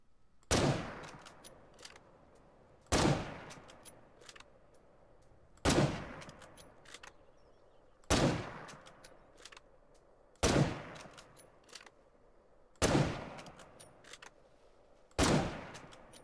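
Gunshots from State of Decay 2 ring out at a slow steady pace, seven loud single cracks about two and a half seconds apart, each trailing off into a short echo, with no talking.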